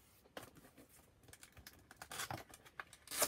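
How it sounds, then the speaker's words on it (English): A cardboard box holding a Veetop 88-key foldable digital piano being opened: quiet, scattered scrapes, tears and light clicks that grow louder toward the end, with no voices. "let me just open up this box"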